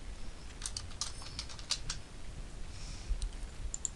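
Brief bursts of typing on a computer keyboard while creating and naming new folders, clustered key clicks in short runs with pauses, close and fairly quiet over a faint steady room hum.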